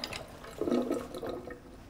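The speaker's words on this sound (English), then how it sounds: "We're gonna fill our bottle." Water runs briefly into a bottle in the video game Life Is Strange 2, a short close splashing pour that swells and fades within a couple of seconds.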